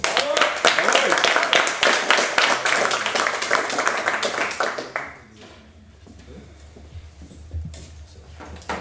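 Audience applause rings out at a French university debating cup, ICES against Sorbonne, with dense, loud clapping for about five seconds before it dies away to a quiet room with faint rustling.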